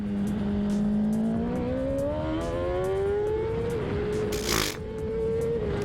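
A racing motorbike engine on a track climbs steadily in pitch at full throttle, a loud close whine that keeps rising with a brief gear-change dip and a short burst of noise near the end.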